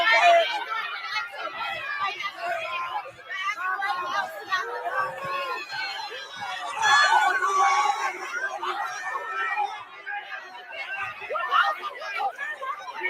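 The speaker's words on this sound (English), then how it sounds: "look at the crowd behind him yelling and screaming" Crowd yelling and screaming at a heated campus debate on an HBCU campus, a dense, steady roar of many overlapping voices, shouts and high cries rising and falling throughout, fairly close and continuous.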